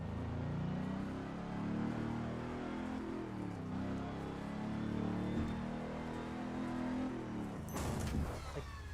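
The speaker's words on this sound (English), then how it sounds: "Listen to the interior, the way that the car whines." From inside a hypercar in the Test Drive Unlimited 2 racing game, the engine gives a continuous droning whine that rises and falls slightly, then ends with a brief burst of noise.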